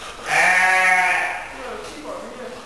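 A sheep at a zoo gives a close, wavering bleat lasting about a second. A fainter bleat follows, with people talking nearby.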